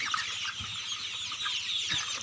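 Farm-raised broiler chickens cluck and chatter together in a continuous, fairly close flock murmur, with a few louder calls standing out and no talking.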